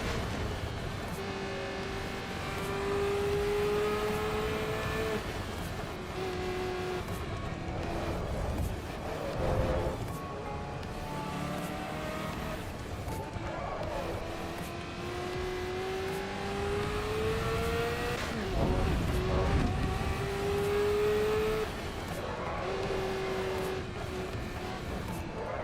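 A historic Ferrari racing engine in the driving game Assetto Corsa Evo revs up and down repeatedly through drifting runs, its whining pitch climbing and falling with brief lifts off the throttle, loud and continuous without talk.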